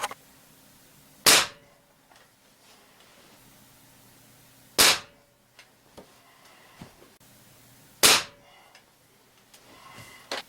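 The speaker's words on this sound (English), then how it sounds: "Now we'll shoot a few 177s across the Crony and see what we get." A Beeman Grizzly X2 air rifle fires .177 pellets through a chronograph: three sharp, loud cracks spaced about three and a half seconds apart, with faint handling clicks between shots and a low steady background hum.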